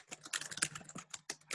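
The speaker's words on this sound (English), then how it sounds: "Who is typing away like a mad woman?" Rapid typing on a computer keyboard, a quick irregular patter of key clicks, faint and close, with no voices.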